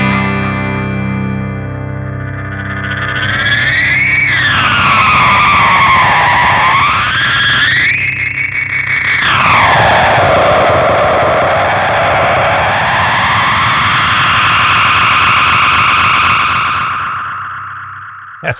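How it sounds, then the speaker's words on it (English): Guitar played through an analog-sounding delay pedal with the feedback cranked, producing loud distorted, self-oscillating repeats that swoop up and down in pitch in long smeared waves, with no talking over it. "So that's like a really analog sounding delay, obviously."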